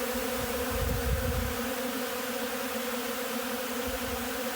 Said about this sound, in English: the bees have been able to find it very readily and are having a great time collecting it